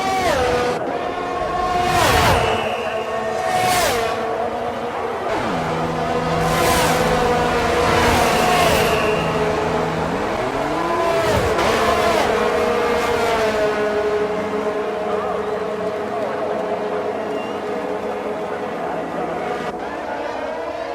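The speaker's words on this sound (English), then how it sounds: "the pit crew are out in the lane and ready to perform their magic on the car" F1 22 race car pit stop: engine hum and revving rise and fall with whirring tool sounds in the pit lane, steady and continuous, mixed with game audio and music-like tones.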